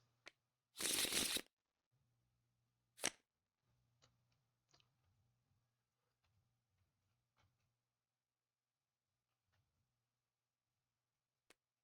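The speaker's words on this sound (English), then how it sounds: "all of these go back into our draw pile, shuffle them" A quick riffle of a deck of cards during a tabletop board game snaps loudly for about half a second, followed by a sharp tap and scattered soft clicks in a quiet room.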